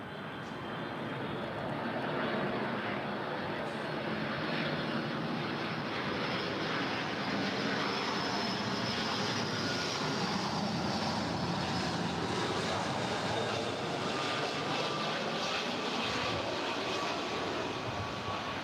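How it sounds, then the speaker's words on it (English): A 25-year-old Delta Boeing 757-200 arriving at LAX from Detroit roars steadily overhead, a loud, sustained jet drone that swells and shifts in pitch as it passes, with no talking. "This next arrival is Delta Airlines Flight 1255 coming in from Detroit. It's a 25-year-old Boeing"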